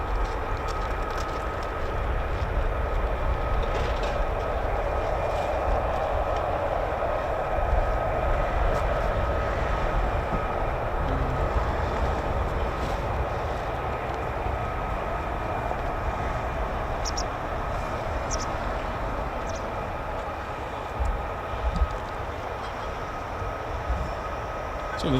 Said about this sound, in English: it's now time to have our F-35s taxi. Let's see, I can hear them.